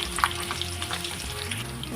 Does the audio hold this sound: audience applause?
no